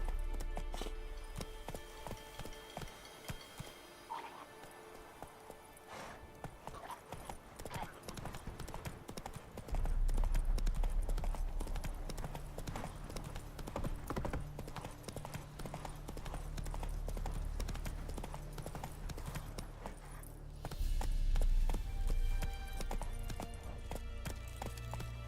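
A horse's hooves gallop in The Witcher 3: Wild Hunt video game, a steady fast clip-clop rhythm over game music and ambience that swells louder partway through, with a voice occasionally urging the horse on.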